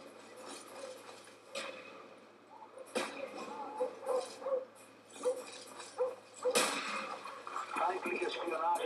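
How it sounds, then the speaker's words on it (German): Attack dogs barking in Call of Duty: Black Ops, with a few sharp barks and yips rising over a busy game soundscape and voice announcements. "Verbündete Hunde unterwegs."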